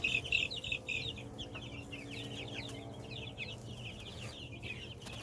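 Cornish cross hens and egg-laying chickens cluck and chatter in a close, continuous flock, with overlapping soft calls over a low background hum.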